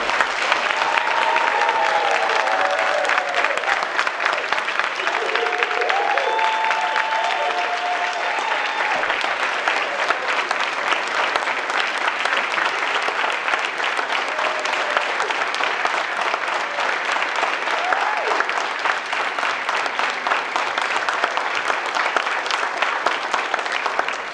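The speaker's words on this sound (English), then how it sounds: "Give these students another round of applause." Long, steady applause from an audience at an annual recognition ceremony for students, loud and unbroken for over twenty seconds, with a few faint voices and whistles rising briefly early on.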